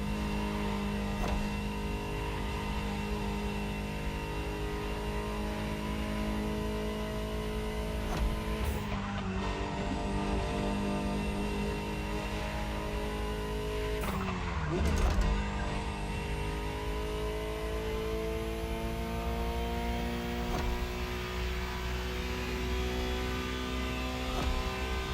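A Ferrari supercar engine being driven in the racing game The Crew Motorfest, a steady, loud engine drone that holds throughout, with two brief dips like gear shifts before the pitch climbs again.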